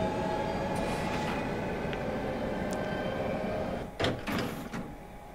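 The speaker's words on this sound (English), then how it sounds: "train is now arriving at Cartoon Station" A train arrives at a station in the video game Final Fantasy 15, with a steady rumbling drone followed by a few sharp hissing bursts like doors or brakes releasing.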